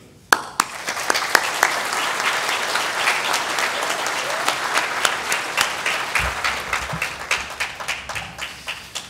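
Gala audience applauding honored educators at an evening awards event, a sustained wave of clapping from a large crowd that starts abruptly and tapers into scattered claps near the end.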